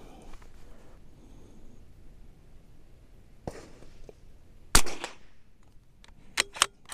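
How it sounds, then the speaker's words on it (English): A .22LR rifle firing SK ammunition outdoors lets off several sharp, short cracks spaced irregularly over a quiet background, with a couple of them close together near the end. "All right, so these are the first shots."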